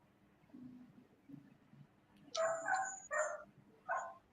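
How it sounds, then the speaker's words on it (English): A dog barks a few times in the background of a video call, short sharp yaps in a small cluster then one more, over a faint room murmur. "We hear the dog barking in the background."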